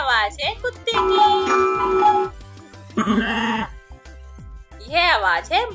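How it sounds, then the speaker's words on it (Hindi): A goat bleats in a children's classroom sound-guessing game: two long, wavering, loud bleats separated by pauses, with light music and a chime in the background. "यह आवाज है बकरी की।"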